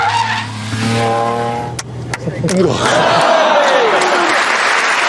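A car driving fast on a track: a loud engine drone at around 125 mph drops away into squealing tires and a skidding hiss as it takes the last corner, with some crowd noise.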